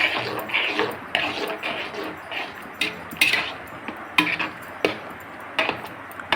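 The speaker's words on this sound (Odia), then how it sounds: "ସୁଜି ପକାଇ ତାକୁ ଭଲ ଭାବରେ ଘାଣ୍ଟି ଦେବା" A spoon stirs semolina upma in a pot over a low flame, scraping and clinking against the metal in irregular strokes with sharp taps every second or so, close and without talk.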